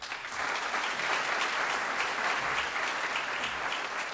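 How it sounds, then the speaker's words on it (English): Sustained audience applause at a sharing-economy networking event in Greece, a steady broadband patter of many hands clapping throughout, fairly loud and even, with no talking. "Let's have a clap for them."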